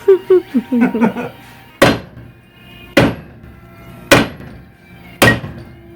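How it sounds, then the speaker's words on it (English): Hammer blows on the loose ball joint stud of an upper control arm during a decades-old suspension rebuild: four loud, sharp metallic smacks about a second apart, after a brief burst of voice at the start. "you could just give it one good smack and it falls right off the upper control arm anyway"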